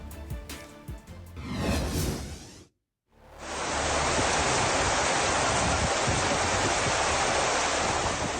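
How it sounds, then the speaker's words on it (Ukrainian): Water gushes like a waterfall into a large sinkhole in a courtyard in central Kyiv, a loud, steady roar of broadband rushing noise that follows a brief whoosh and a moment of silence. "Під вікнами багатоповерхівки у самому центрі столиці величезна діра і водоспад."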